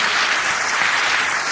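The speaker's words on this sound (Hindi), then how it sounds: "जबरदस्त तालियों के बीच" Dense, steady clapping from a large audience at a company business seminar, loud and continuous for the whole moment with no voices over it.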